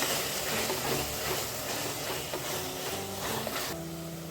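Garam masala and dill powder fry in a pan for Bhatkal mutton biryani, giving a steady, fairly loud sizzling hiss that softens slightly near the end.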